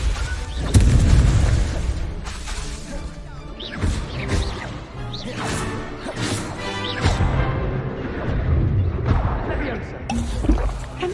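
Confringo blasting spells go off in a Harry Potter video game, with a series of booming explosions and crashing bursts at irregular intervals, loud and close, mixed with game effects and a player's voice.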